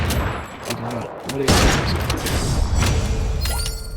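Gunfire in a mobile shooter game, rapid shots and impacts crowding the clip, loud and close, with a player talking over the action.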